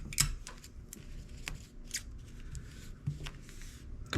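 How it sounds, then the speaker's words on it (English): Tape is pulled, torn and pressed down to hold a sublimation print on a shirt sleeve, giving a run of short crackly rips and rustles at close range with no talking. "Just tape it down really good."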